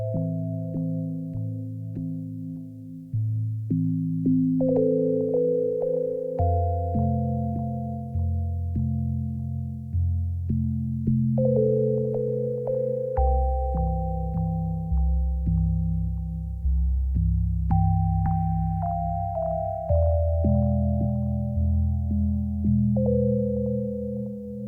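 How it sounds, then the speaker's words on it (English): UDO Super 6 polyphonic synthesizer playing patch 3 of bank B, a warm sustained chord progression of layered pad-like tones shifting every few seconds with soft note attacks, steady and alone. "That's the sound of patch 3, bank B. Sat at the Super 6."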